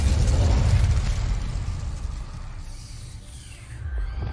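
A fire spell, Incendio, is cast in Hogwarts Legacy, a roaring whoosh of flame with a deep rumble that swells at once and then slowly fades, loud and close, no voices.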